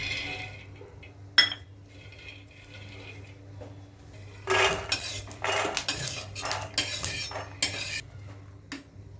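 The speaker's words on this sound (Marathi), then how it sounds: "मस्त आपण शेंगदाणे भाजून घेऊ" Peanuts roast in a dry pan, starting with a quiet stretch and one sharp metal clink, then a busy run of rattling, scraping stirs with a spoon against the metal, close and moderately loud with no talking.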